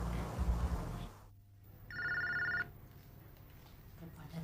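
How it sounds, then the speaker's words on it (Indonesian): An indoor telephone gives a short electronic ring lasting under a second, fairly close and clear, after a stretch of muffled background noise and low rumble. "Telepon dari siapa sih lagi?"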